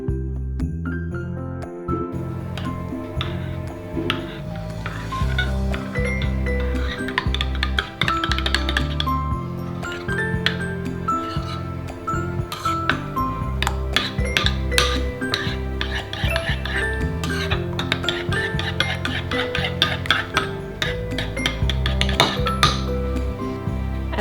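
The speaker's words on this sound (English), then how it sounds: "I just use a spoon to mix everything together." A spoon clinks and scrapes around a bowl while mixing vegan pumpkin spice muffin batter, a steady busy run of small metallic taps and knocks over a constant low background hum, with no talking.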